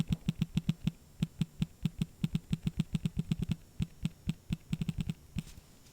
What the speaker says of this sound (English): The haptic motor is a little loud.